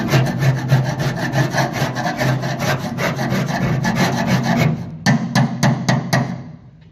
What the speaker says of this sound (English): You can just start scraping on it.